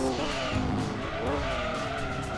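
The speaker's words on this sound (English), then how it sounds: "I can hear a car." A race car in the video game Gran Turismo 2 whines with a rising and falling engine note while its tires squeal and skid through a corner, at a moderate level.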